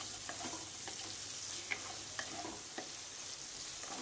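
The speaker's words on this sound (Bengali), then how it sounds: "এবার এটাকে খুব ভালো করে কষিয়ে নেব।" Taro root with prawns, sugar, cumin and coriander powder sautés in a pan, producing a continuous sizzling hiss broken by light scraping and stirring clicks at irregular intervals, with no talking.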